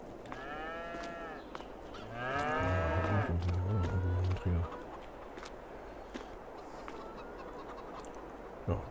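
Cows mooing on a farm in the video game Farming Simulator 22, several long drawn-out lows overlapping in the middle, over steady background ambience, with speech alongside.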